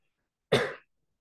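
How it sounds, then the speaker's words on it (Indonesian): A single short, sharp cough, close and alone, surrounded by silence. "mohon maaf saya batuk"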